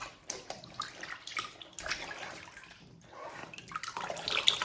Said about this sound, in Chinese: 我们再给它清洗一遍。